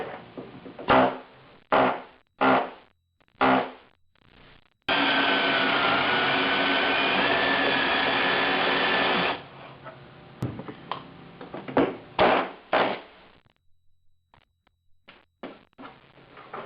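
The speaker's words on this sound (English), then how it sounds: "I'm going to blow these rivets off and then take these ridiculous patch panels off" A power tool drills out rivets on the body of a 1976 Mazda Cosmo, with several short sharp bursts, one long continuous grinding run of about four seconds, then more brief bursts, all loud and close.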